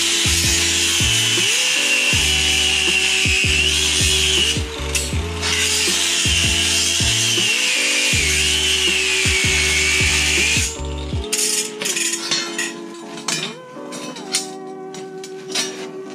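A power tool cuts through the ears of a steel seat bracket, a loud, steady abrasive whine for roughly eleven seconds that then stops, leaving scattered clanks and shop handling noise.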